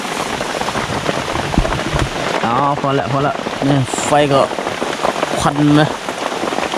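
Heavy rain pours steadily on a forest camp in the mountains, a dense, close patter on surfaces, while people talk over it throughout.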